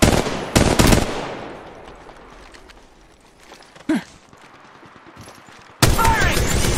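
Gunfire in the mobile battle-royale shooter Apex Legends Mobile: opening loud bursts, then sparse distant shots and crackle, a sharp single report near the middle, and another heavy burst at the end.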